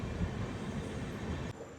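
Seshadri Express with new LHB coaches standing at platform 2 of Kaikaluru station, a steady low rumbling drone of the train and station noise throughout, dropping slightly near the end.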